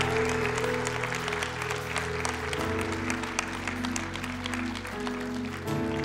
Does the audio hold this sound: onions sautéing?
no